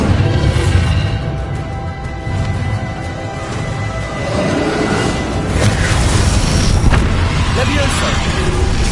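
Bombarda blasting spell in the Hogwarts Legacy video game, booming explosive impacts amid dense combat noise, with a voice speaking over it.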